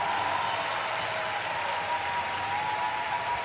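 A large indoor arena crowd at the 2012 World Figure Skating Championships applauds and cheers steadily after a short program, a dense roar of clapping that holds at an even level throughout.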